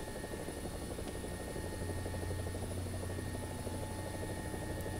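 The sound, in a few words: helicopter rotor from War Thunder video game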